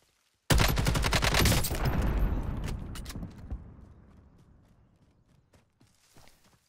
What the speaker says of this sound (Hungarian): De furcsa volt ez a robbanás.